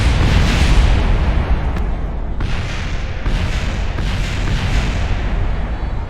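Heavy, continuous rumbling blasts from Kerbal Space Program fill the whole stretch, with a few sharper bursts breaking through the loud, dense low roar and no talking.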